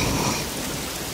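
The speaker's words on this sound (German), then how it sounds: "kämpfte mit starkem Regen und Wind" Heavy rain lashes down in a windy thunderstorm, a loud steady wash of downpour that eases slightly toward the end, with no one talking.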